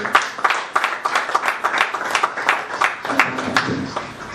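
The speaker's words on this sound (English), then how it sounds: "let's make him welcome with a round of applause" An audience at a peace summit in Enugu applauds to welcome a guest, a moderate crowd clapping in uneven bursts with a few louder individual claps, continuing throughout.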